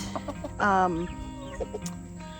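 Backyard chickens cluck and murmur close by, with one louder drawn-out squawk among softer repeated clucks from a flock that includes a rooster.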